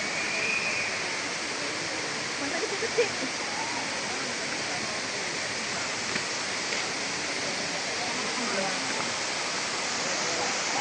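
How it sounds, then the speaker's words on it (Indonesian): Penumpahan waterfall in Pagar Alam, South Sumatra, gives a steady, moderately distant rushing roar of falling water, continuous throughout, with a few brief spoken words over it. "air terjun penumpahan yang berada di Pagar Alam, Sumatera Selatan."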